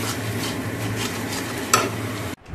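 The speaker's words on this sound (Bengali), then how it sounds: "এদিকে কষা মতন গ্রেভিটা করছি" A thick gravy for fish sizzles in a pan while being stirred, giving a close, steady frying crackle with brushing scrapes and one brief metallic clink, before cutting off abruptly near the end.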